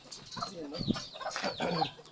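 Chickens on a neighbour's farm in the Philippines cluck and chatter softly at mid distance in several short bursts, with people talking quietly in the background.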